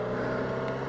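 Motorcycle engine pulling away as the clutch is eased out, a steady close, loud drone with a low rumble that holds evenly through the short moment.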